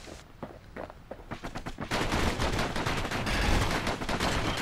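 Rapid gunfire rattles in the video game Bastion, a quick series of sharp shots building into loud, continuous bursts with no talking.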